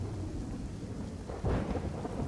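Heavy downpour over Kalyanpur in Gujarat, with low thunder rumbling under the constant roar of rain and swelling louder midway through.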